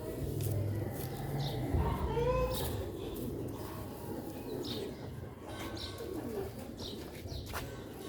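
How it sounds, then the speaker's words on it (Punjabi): Pigeons kept as a hobby coo softly and repeatedly at a moderate distance, with scattered chirps from other birds over a low, steady background hum. "ਹਾਂ ਇਹ ਸ਼ੌਕ ਵਾਸਤੇ ਕਬੂਤਰ ਹੈ"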